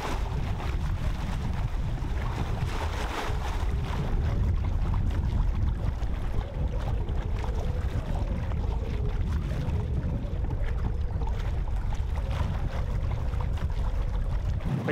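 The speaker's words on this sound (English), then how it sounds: "We just got a beautiful gusty wind coming down off the mountains" A sailboat running under its head sail in gusty wind coming down off mountains, with heavy, continuous roaring wind buffeting and rushing water that stay loud and steady throughout, no voices.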